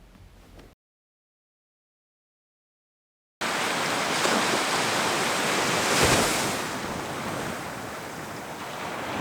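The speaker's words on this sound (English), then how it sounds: "Welcome to Old Shoremore Bay and the Old Shoremore Beach." Surf washes onto Old Shoremore Beach in northwest Scotland, a steady broad roar of breaking waves heard close after a brief silent gap, with some wind buffeting the microphone.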